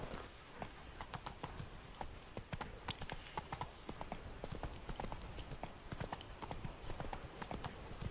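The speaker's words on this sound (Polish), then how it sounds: "nietypowy wyjazd z miasta koniem" Horse hooves clip-clop in a steady trotting rhythm in The Witcher 3, a long run of evenly spaced, crisp, fairly quiet hoofbeats over a soft background, heard alone.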